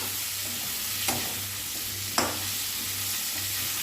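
Potatoes frying in a pan for mung dal give a continuous hiss, broken by two sharp scrapes of a spoon stirring them against the pan.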